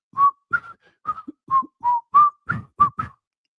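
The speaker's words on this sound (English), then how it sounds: "How come I can't whistle?" A person whistles the Andy Griffith Show theme: a short run of about nine clear, close whistled notes in a bouncy rhythm, with no talking.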